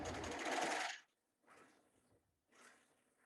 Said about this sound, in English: And now we're just going to go down and do our last side seam.